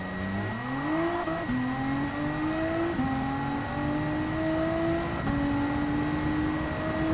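Race car engines drone and climb through upshifts during a rolling start at Circuit de Spa-Francorchamps in Gran Turismo 7, a steady loud whine stepping up in pitch with each gear.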